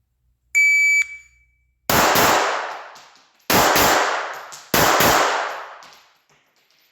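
Sharp, loud pistol shots from a Glock 42 and a Ruger LCP crack out on a range, arriving in clusters with ringing decays, preceded by a brief electronic shot-timer beep.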